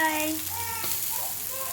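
Bangude (mackerel) fish frying in a pan gives a steady, close sizzle that holds through the short stretch, with faint tonal background sounds beneath it.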